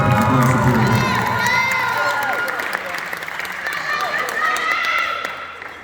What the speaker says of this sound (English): quick round of applause for these solos from MPA